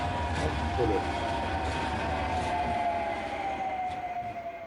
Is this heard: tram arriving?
yes